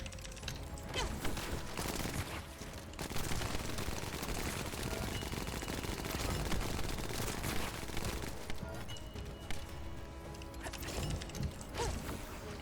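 Dense, continuous gunfire from the shooter game The First Descendant rattles through the whole stretch in overlapping rapid bursts, loud and busy, with clanking mechanical effects mixed in and no pause in the shooting.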